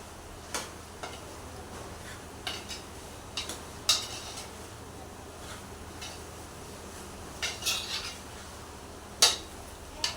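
A spoon stirs chicken curry in a pot, knocking and scraping against the metal in scattered clicks over a low, steady background of faint sizzling.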